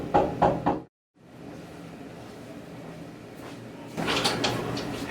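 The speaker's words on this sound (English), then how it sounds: "Knock on the door and see if the firefighters are there." Knocking on a door on Halloween: a few quick, sharp knocks at the start, followed by a pause and then a steady muffled rustle and background noise that swells near the end, with no voices.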